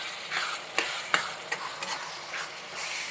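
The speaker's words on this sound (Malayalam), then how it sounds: "2 ടീസ്പൂൺ മീറ്റ് മസാല ഇട്ട് ഇളക്കി കൊടുത്തു." Kashmiri chilli powder and meat masala being stirred into pork curry frying in a pan, with a soft steady sizzle broken by a few sharp scrapes and clinks of the spoon, close and alone without talk.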